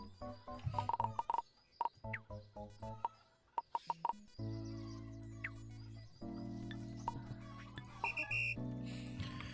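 A video game whistle in Autonauts sounds as a string of short chirping blasts, followed by longer sustained electronic tones layered with bird-like clucks and warbles, moderately loud.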